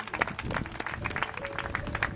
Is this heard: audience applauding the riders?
yes